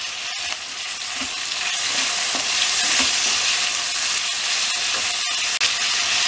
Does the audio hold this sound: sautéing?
yes